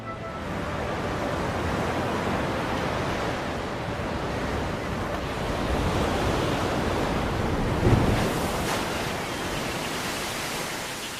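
Ocean surf breaks along the Atacama Desert coast as a continuous, full roar of waves mixed with wind. It swells slightly near the end and has no voices.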